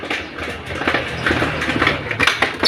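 A Yamaha Aerox V2 scooter with a damaged cylinder head runs rough and noisy, a close, loud engine clatter with uneven knocking pulses throughout, no talking.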